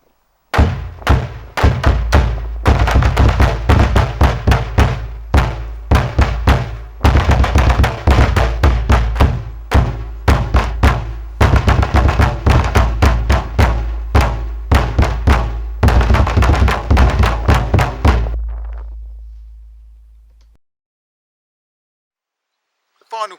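A military side drum plays the English Civil War 'battle' call, a long run of loud, close, rapid strokes and rolls in a driving rhythm for nearly twenty seconds before it stops abruptly and a booming tail fades out.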